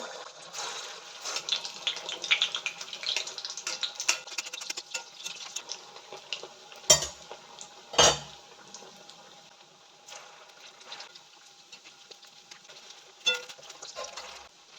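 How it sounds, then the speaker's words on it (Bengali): Rohu fish kofta balls fry in hot oil in a kadai, a steady crackling hiss with a few sharp louder pops as pieces are dropped in, close by and with no talking. "তেল গরম হয়ে গেছে, আমি এক এক করে বলগুলো দিয়ে দেবো।"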